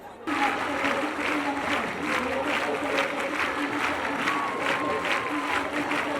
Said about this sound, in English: Clapping for Jesus, the Phaneroo International Ministries congregation is breaking the record